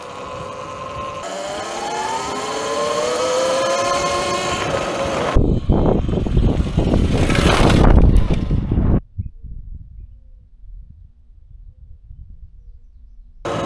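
An E-Ride Pro SS 2.0 electric dirt bike is ridden. A steady whine climbs in pitch at first. Rougher, louder tire and chassis noise follows. Then the sound drops to quiet.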